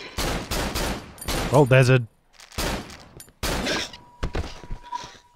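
Gunshots from a firearm in the horror video game Cry of Fear ring out as several sharp, loud bursts separated by brief pauses, with someone speaking briefly in between.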